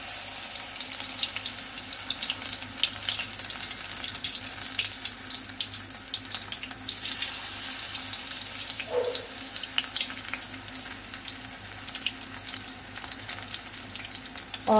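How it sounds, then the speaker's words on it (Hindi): Spinach leaves dipped in batter frying in hot oil over a medium flame for palak pakoras; a dense, continuous crackling sizzle close up, steady throughout with a brief clink near the middle and no talking. "और इस तरह से इसको इसमें फ्राई होने डाल देंगे।"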